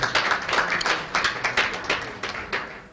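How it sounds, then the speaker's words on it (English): Brief, close-sounding clapping from a small gathering at a corporate online publishers' guild anniversary event, a short burst of uneven hand claps. "a round of applause to Gocop"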